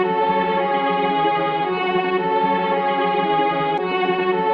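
A music sample from a track plays sped up to twice its speed, giving a dense, steady, bright harmonic texture with no voices.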